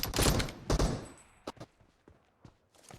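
Gunfire from the battle royale game PUBG: a rapid burst of close shots, then scattered single shots and quieter distant pops with pauses between them.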